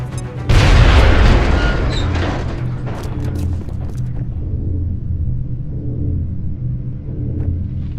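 A heavy, booming grenade blast in the strategy game XCOM: Enemy Within erupts loudly and rolls off into a long low rumble, with faint game music continuing underneath.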